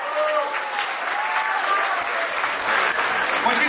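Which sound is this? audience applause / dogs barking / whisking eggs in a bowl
audience applause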